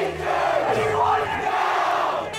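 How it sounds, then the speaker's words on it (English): Hundreds of students at a walkout protest over teacher layoffs in Hamburg raise a loud, sustained crowd roar of shouting and cheering throughout. "the crowd of students numbered in the hundreds this morning"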